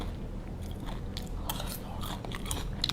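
Soft, close chewing of a crispy Thai rolled rice-noodle dish, quick crunchy bites and mastication at a low level with no talking.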